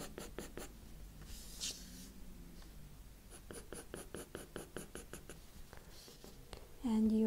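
A 5B pencil cross hatching on paper: close, soft scratchy strokes in short repeated bursts with brief pauses between sets, quiet and intimate, with a faint hum at the very end.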